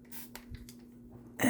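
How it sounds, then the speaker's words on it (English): A spray bottle spritzes water onto a watercolor painting in one short burst at the end, after quiet handling sounds. "I'm going to get the spray bottle and just spray them a little bit"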